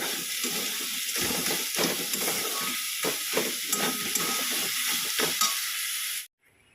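Red spinach stir-fries with crushed nuts and lentil dumplings in a pan, giving a loud, steady hissing sizzle. Repeated scraping strokes from stirring sit on top of it until the sound cuts off abruptly near the end.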